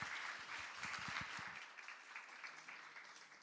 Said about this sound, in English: a huge round of applause for Aaron